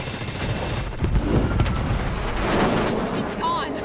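Portable turret gunfire in Halo Wars 2 rattles off in dense bursts under loud battle noise and booms, with a few higher whining effects near the end.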